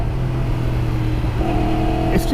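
Engine of a 2016 Yamaha R1 motorcycle revving under light throttle input, a steady close-up drone that rises in pitch partway through, with no talk.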